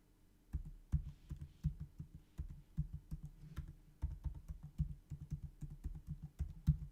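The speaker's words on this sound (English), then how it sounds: "Maybe I can just type it out real quick." Fast typing on a computer keyboard, a quiet close run of irregular clicking keystrokes with short pauses, no voice.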